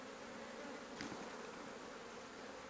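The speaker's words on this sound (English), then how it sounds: "The bees are actually behaving themselves quite nicely" Honeybees in a top-bar hive colony hum in a steady, dense drone close by, with one brief louder buzz as a bee passes near.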